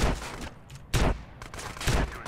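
Gunfire in GTA San Andreas: three heavy, booming shots or short bursts spaced roughly a second apart, loud and close, with no talking.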